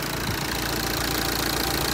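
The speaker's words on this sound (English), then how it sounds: "The engine running smooth." A car engine runs smoothly at idle after an intake manifold cleaning, giving a steady, close, continuous hum with no speech over it.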